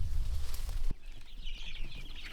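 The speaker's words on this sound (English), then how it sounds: "Let's go around and check on the chicks and see how they're doing this morning." Young chicks stir in their coop in the morning, giving faint, high peeps and soft clucks over rustling, with a low rumble and a sharp knock near the start.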